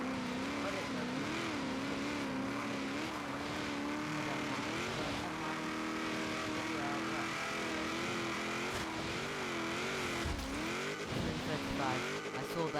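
A rally car engine in a Ferrari Nitro racing game, humming and rising and falling in pitch as it shifts, with tire squeal in places. It runs steady and fairly quiet, and a voice can be heard talking over it.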